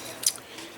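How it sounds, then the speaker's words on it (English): A single quick snip of scissors closing on thin wire, close by, with a brief sharp click amid quiet. "I had to use scissors to cut this stuff that goes, this wire stuff that goes on here"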